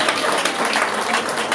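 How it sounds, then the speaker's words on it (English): A room of guests at a gathering claps together, a brief, dense and steady burst of applause. "I'm sure we can give them a round of applause."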